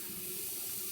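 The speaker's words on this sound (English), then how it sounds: "I'm gonna get some hot water now" Hot water running from a tap into a sink, a steady close rushing stream filling the whole moment without any talk.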